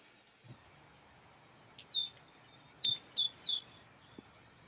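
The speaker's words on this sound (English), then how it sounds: "you can hear all the birds in the background where I live" Birds chirp outdoors in the background, a few short high bright calls in two small clusters over a faint, quiet ambient hiss with occasional soft knocks.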